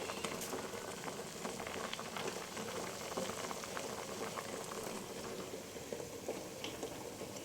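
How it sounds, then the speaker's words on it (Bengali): Eggs and potatoes boil together in a pot, a soft, steady bubbling and gurgling that stays quiet and even throughout, with no voices. "এইদিকে ডিম আর আলু সিদ্ধ হচ্ছে।"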